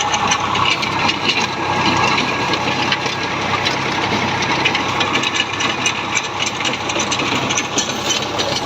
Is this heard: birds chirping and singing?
no